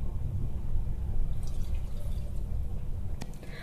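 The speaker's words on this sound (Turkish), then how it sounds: "Şimdi suyunu da koyuyorum üzerine." Water is poured into a jar over peppers and garlic for pickling. A soft, continuous splashing gurgle runs for several seconds, with a few faint drips near the end.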